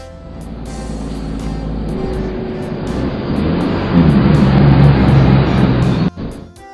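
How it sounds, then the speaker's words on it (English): A dump truck's engine rumbles close by, growing louder and heavier midway before cutting off sharply, with a brief fainter rumble afterward. "Dump truck."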